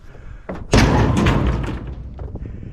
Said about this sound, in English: I'm gonna throw my shred metal in there.